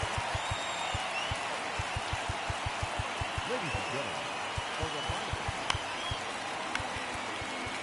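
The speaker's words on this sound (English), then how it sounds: "that crowd is loud" A loud stadium crowd roars steadily in a baseball video game during a Cubs versus White Sox at-bat, with a continuous wash of cheering and rhythmic thumping underneath.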